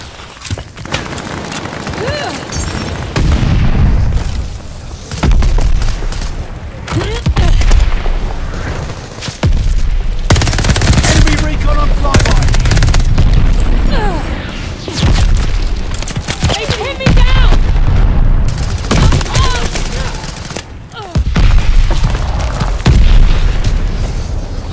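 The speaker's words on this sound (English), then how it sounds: "They're sending mortar shells!" Mortar shell explosions and gunfire in a Call of Duty: Vanguard team deathmatch, loud booming blasts and bursts of shots repeating throughout, with voices shouting over the combat.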